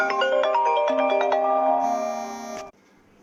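A phone ringtone from an incoming call plays a bright, stepping electronic melody of tonal notes, close and fairly loud, ending abruptly with a sustained high tone before cutting off to near silence.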